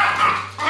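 Several dogs barking and yipping nearby in a home, a short burst of overlapping barks with a brief dip before more barking resumes.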